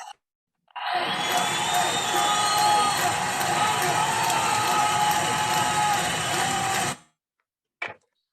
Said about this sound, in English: Can we just give them all one more round of applause?